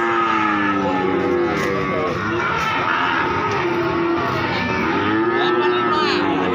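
Cattle, young female breeding cows, low and bawling at the Pon livestock market in Jaken, with overlapping moos rising and falling over a constant loud murmur of the crowded market.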